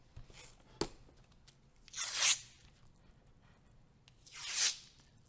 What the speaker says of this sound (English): tape off paper sometimes when I'm working on it